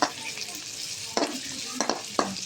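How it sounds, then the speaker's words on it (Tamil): Onions sautéing in oil for a chicken kulambu, a steady close sizzle broken by several sharp stirring scrapes and clinks of a utensil against the pan, with no talking. "கொஞ்சம் எண்ணெயை ஊற்றி அதில் பெரிய வெங்காயத்தை போட்டு கொஞ்சம் நல்லா"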